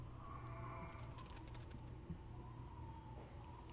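Bird in the video game Fire Emblem: Radiant Dawn: soft cooing calls, faint and low in the mix, accompanied by light clicking sounds.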